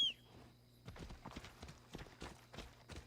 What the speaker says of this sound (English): The horse is so hard to mount in this game.